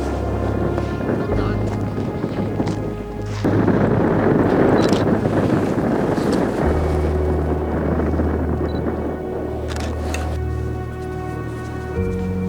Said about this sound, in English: There's a pretty good wind chill right now.